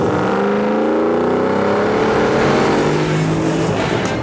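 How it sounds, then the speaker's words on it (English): A loud Land Rover Defender 110 engine, with automatic gearbox, revs hard and climbs steadily in pitch as it accelerates, a rich continuous roar heard close without any talking. "Surely the best sounding Defender on the planet."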